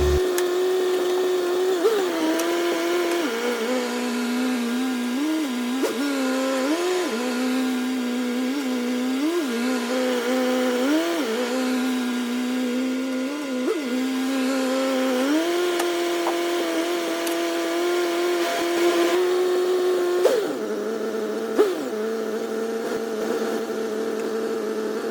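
A 1984 Corvette C4 with a 700R4 transmission idles steadily as it rolls back and forth on a driveway, a continuous engine drone with small pitch rises and dips, and a slight surge near the end.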